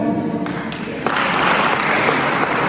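An audience at a college motivational seminar in Jaipur breaks into loud applause, a dense wash of clapping that swells after a moment and holds steady, close and filling the hall.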